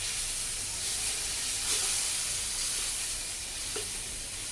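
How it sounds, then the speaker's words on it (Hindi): Chicken fries in oil in a kadai over high heat for platter shawarma, producing a loud, even sizzling hiss with a couple of brief stirring knocks. "आपने कढ़ाई के अंदर ऑयल डाल देना है, थोड़ा सा 2 चम्मच तकरीबन आपने ऑयल डाल देना है, और तेज़ चलाना है"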